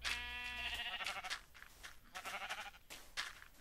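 Minecraft sheep bleat in a close, steady baa, then a few shorter bleats follow over light game noise.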